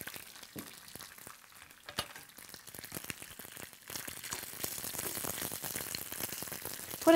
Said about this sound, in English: I love the sound of hearing it sizzle.